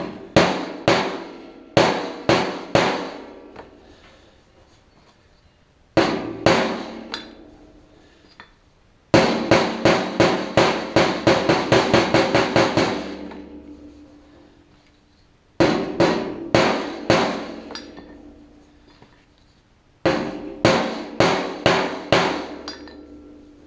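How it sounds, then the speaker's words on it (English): A rounded body hammer taps the fender of a 1966 Ford Galaxie 500 convertible in repeated quick bursts of sharp metallic strikes. Each burst fades before the next begins, with no talking. "I'm going to use my rounded hammer there."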